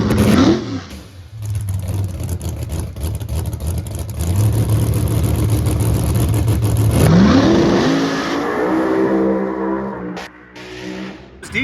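A race car engine at a speed promotions race revs hard through high RPM, a loud, close, continuous roar that climbs in pitch, drops briefly with a gear change, then climbs again before easing off near the end.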